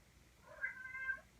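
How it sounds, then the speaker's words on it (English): A single drawn-out cat meow, fairly faint but clear, rising and falling over about a second in a quiet room. "Our cat is crying."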